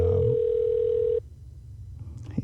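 A steady telephone dial tone on an outgoing call from a radio show's studio line, clear and loud for about a second before cutting off into quiet background noise.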